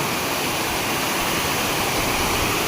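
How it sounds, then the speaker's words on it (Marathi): Water spilling over a small check dam on a river makes a steady, broadband rushing roar, continuous and fairly loud throughout, with no voices. "बंधाऱ्यावरून पण पाणी वाहत आहे"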